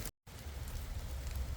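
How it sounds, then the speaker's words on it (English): Large raindrops fall outdoors in St. Mark's Cemetery in Niagara-on-the-Lake, a soft, steady patter on surfaces with a low rumble, after a brief dropout at the start. "these raindrops are huge."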